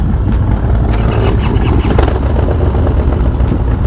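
Motorcycle engine starting and running, a loud, close, rough rumble that holds steady for several seconds with no voices over it.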